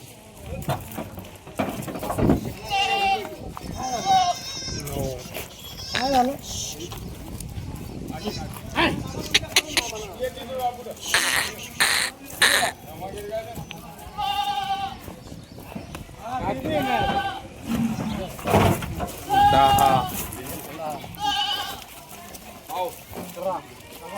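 Goats bleat again and again at a busy livestock market, sharp nasal calls rising over loud crowd chatter and shuffling, with people talking throughout.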